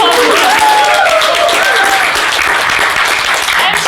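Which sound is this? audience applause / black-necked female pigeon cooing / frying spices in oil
audience applause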